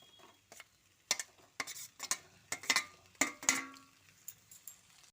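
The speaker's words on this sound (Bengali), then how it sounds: "বেগুনটা দিয়ে সব কিছু আরও একবার ভালো করে মিশিয়ে দিচ্ছি" Fried eggplant is stirred into an egg and spice mixture in a pan, with a spoon or spatula giving a string of sharp, irregular clinks and scrapes over a faint sizzle.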